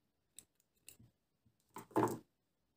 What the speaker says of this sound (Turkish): Burada şu başlangıç ipimi kesiyorum.